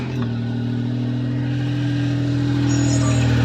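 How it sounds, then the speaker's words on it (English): Daewoo Matiz (Chevrolet Spark) small-engine car with a holed exhaust muffler, running at a loud, steady drone with a strong low hum and a raspy, constant exhaust roar throughout, close by and with no talking. "I'll just show you how loud the car is."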